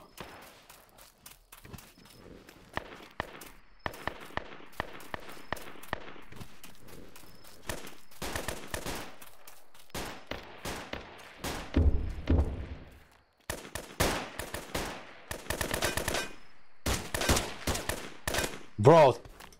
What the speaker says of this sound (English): Even the gun sounds are lagging, if you hear it, guys.